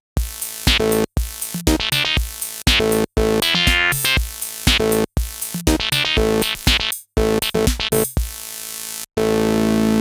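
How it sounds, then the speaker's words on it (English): A string of varied miniKORG 700S synthesizer tones, bright, buzzy and sweeping, played one after another with brief pauses, some notes bending and warbling, the last held steadily. "If you like the sound of the miniKORG 700S, I've made a little sample pack. Sounds like this."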